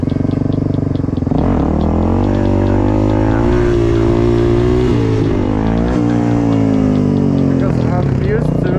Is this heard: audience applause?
no